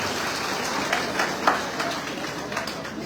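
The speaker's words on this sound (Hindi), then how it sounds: "जोरदार तालियों से स्वागत चाहता हूँ आप लोगों का।" Clapping from a crowd at a Hindi political party workers' event, a dense roll of applause with a few sharper claps standing out and voices beneath.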